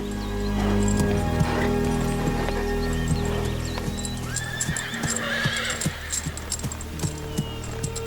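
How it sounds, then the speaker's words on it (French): Horses on a ranch whinny loudly and clip-clop with scattered hoof strikes, with a long neigh midway and close, uneven footfalls throughout. "Les chevaux."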